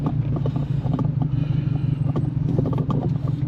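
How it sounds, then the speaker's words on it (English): A car engine idling in park, a steady low rumbling drone with an even mechanical pulse and some light clatter, close and continuous without talk. "it's idling good right now in park"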